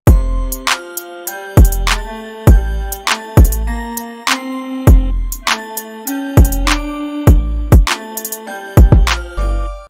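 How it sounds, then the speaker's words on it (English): A looping West Coast beat made in FL Studio with punchy kick, sharp snare hits and ticking hi-hats over tonal bell-like chords from a Pokemon sample, steady tempo, loud and clear with no voices. "The kick, snare, and hi-hat sound like this."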